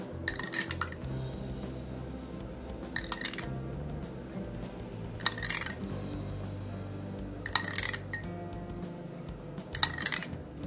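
Utensils clinking against a bowl as a spring salad is tossed, five sharp bright clinks at roughly two-second intervals over a low, muffled rustle of leaves, close and moderately quiet.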